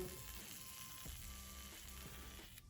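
An Ares YoYo Noas A01 yo-yo spins on its bearing, giving a quiet, steady whirring hum with a faint mechanical ticking texture that holds for a few seconds.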